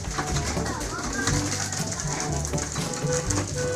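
Homing pigeons returning to a loft after ranging, with a busy patter of wingbeats and soft cooing close by, fairly quiet, and a voice talking over it.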